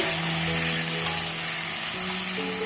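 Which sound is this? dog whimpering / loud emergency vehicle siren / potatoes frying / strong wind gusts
potatoes frying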